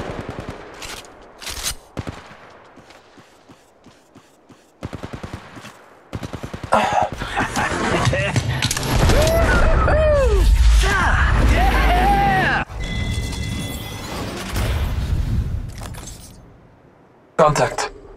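Gunfire in the mobile battle royale game Apex Legends Mobile: scattered shots early, then a dense, loud burst of automatic fire with shattering impacts, under intermittent character voice callouts.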